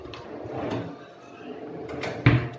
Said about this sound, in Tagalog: Mga drawer po yan.